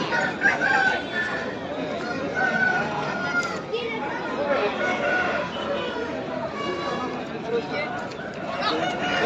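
Crowing roosters and clucking hens fill a crowded livestock market in Pileru, several birds calling at once over a constant murmur of people talking nearby.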